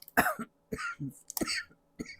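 Several close, harsh coughs and throat clearings in quick irregular bursts, separated by brief silences.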